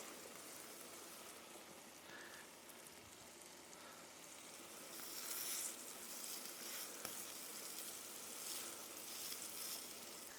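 Sausage patties sizzling on a flat iron griddle, a soft continuous crackle that swells louder midway, fairly quiet and without speech.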